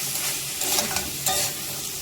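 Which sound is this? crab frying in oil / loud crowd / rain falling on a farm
crab frying in oil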